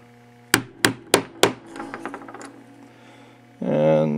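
A hammer strikes a wooden dowel four times in a quick, even rhythm to seat a primer in a shotshell resting on a piece of steel, then lighter taps and rattles follow, and a voice comes in at the end.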